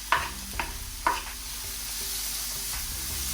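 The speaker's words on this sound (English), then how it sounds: "I'm not going to completely brown these onions, just I'm going to make them translucent." Onions fry for karahi gosht in a pan, a steady close sizzle with a few sharp clinks of stirring near the start, and no voices over the hiss.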